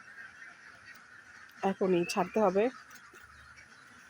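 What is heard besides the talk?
ducks calling noisily on a farm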